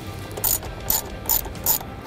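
Clamp on the airbox inlet boot of a 2018-2020 Textron Wildcat XX being loosened, heard as four evenly spaced, crisp ratcheting clicks close by, one roughly every 0.4 seconds, with no talk.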